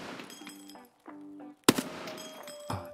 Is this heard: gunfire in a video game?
yes